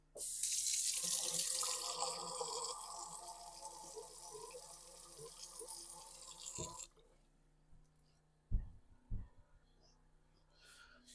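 A kitchen sink tap runs loudly as canned food is drained, a strong rush of water for several seconds that cuts off, followed by a few quiet clunks and drips.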